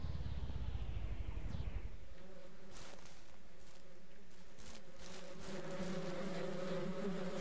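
In the video game Ranch Simulator, bees buzz around a hive, a steady droning hum that rises in after a brief rustle, with light ticking and shuffling sounds over the buzz.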